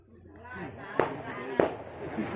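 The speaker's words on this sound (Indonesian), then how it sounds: "Waduh, video petasan." Firecrackers going off in a video played back on a phone or screen, two sharp pops about half a second apart over a steady background and faint talk.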